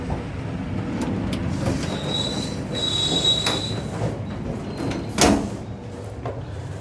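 Train wheels squeal against a guard rail as an executive-class passenger train rounds a curve in Indonesia, with sustained high-pitched screeching over steady rumbling rail noise and a brief louder clank near the end.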